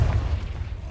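The Confringo blasting spell in Hogwarts Legacy lands as a short, heavy, booming explosion, loud and close, whose low thump fades quickly over under a second, alone without speech.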